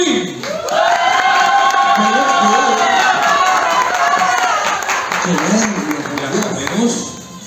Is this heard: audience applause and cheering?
yes